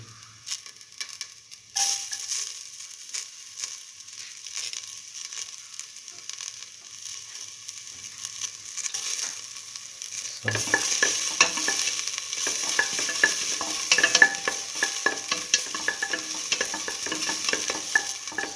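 Ginger frying in a pan, a bright continuous sizzle that starts soft, rises after a couple of seconds, then grows louder and denser with crackling pops about midway.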